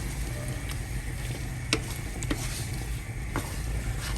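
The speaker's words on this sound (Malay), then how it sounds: "So you need to stir until this thing dry." Sambal sautéing in a pan, a steady bright sizzle with occasional scrapes and taps of the spoon as it is stirred down until dry, close and continuous with no talk.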